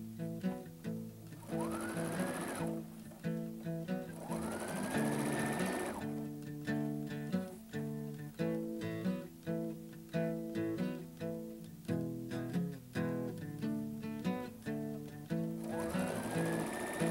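A home sewing machine stitches a shorts waistband in one pass, whirring in long steady runs broken by brief pauses, fairly close and loud throughout.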